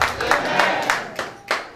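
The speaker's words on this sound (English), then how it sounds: "Put a clap of it to the glory of God." A church congregation at a men's thanksgiving service claps in rhythmic bursts, several loud, evenly spaced claps from many hands close by, with some murmuring underneath.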